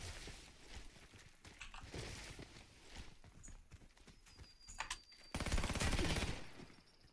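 A Marlin 1894 Custom lever-action rifle in the shooter game Warface fires in several loud cracking shots amid busy, noisy game sound, with a heavier burst near the end.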